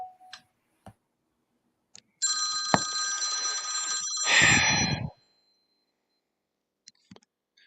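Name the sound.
telephone ringing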